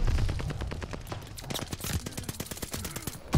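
Rapid bursts of Sten submachine gun fire in Call of Duty, sharp closely spaced shots over about three seconds, loud and continuous.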